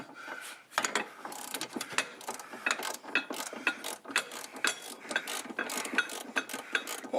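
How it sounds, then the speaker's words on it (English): A ratchet wrench cranks in quick, uneven bursts of clicks as a tight bolt is broken loose on a rear dog bone bushing of a C4 Corvette, heard close and alone with no talking. "Break the bolt loose."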